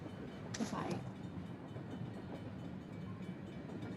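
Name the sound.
child imitating train noises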